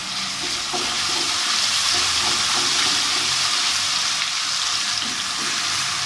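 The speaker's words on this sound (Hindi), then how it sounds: "ये थोड़ा तड़के का शोर होता है" Tempering spices crackle and sizzle steadily in hot oil in a kadhai, a loud, continuous frying hiss that fills the whole stretch with no voices.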